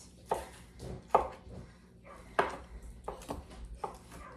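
Cooked chicken is chopped with a knife on a board, about six distinct thuds in an uneven rhythm, close and fairly quiet with no talking between strokes.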